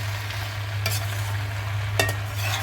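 Dried fenugreek is stirred into arbi masala frying in a pan, giving a low steady sizzle with two distinct scraping stirs of a spoon against the pan.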